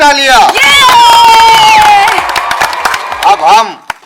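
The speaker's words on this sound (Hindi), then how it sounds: "बजा तालियां।" A village crowd breaks into clapping and cheering for the champion of a local cycle race, loud and close, with shouts and whoops rising over the applause.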